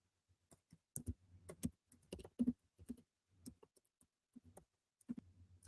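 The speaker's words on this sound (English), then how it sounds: "as soon as I start typing" Computer keyboard typing in a quiet room, faint, irregular clusters of clicking keystrokes with short pauses between bursts.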